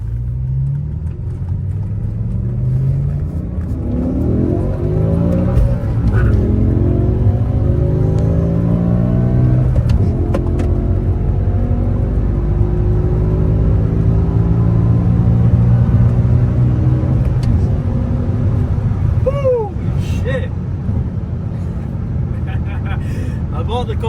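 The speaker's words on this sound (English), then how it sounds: "after this car turns on" A BMW V10 M6 with a manual gearbox runs loud and close, its engine droning and rising through revs in long sweeping pulls while a person talks over it.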